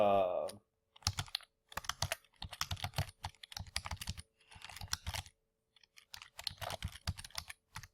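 Password being typed on a computer keyboard: rapid bursts of close, crisp key clicks in several runs with short pauses between them.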